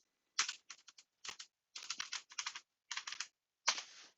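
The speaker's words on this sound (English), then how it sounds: "So we're going to type it anyways" A Bible verse reference is typed on a computer keyboard in short separate bursts of rapid clicking keystrokes, close and crisp against near silence.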